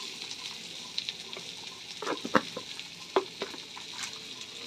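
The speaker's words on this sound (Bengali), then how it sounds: "ভালো করে ভেজে নেব বন্ধুরা লাল লাল করে ভেজে নিয়েছি" Boiled jackfruit seeds fry with turmeric and salt in a pan, giving a faint, steady sizzle broken by a few sharper scrapes and clicks as they are stirred.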